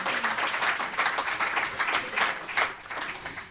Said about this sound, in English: So maybe we can have a little applause